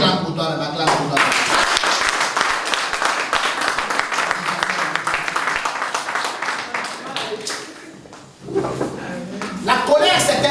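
A church congregation bursts into dense, continuous applause, a loud clatter of many hands filling the room, with a brief dip near the end before the clapping swells again and voices mix in.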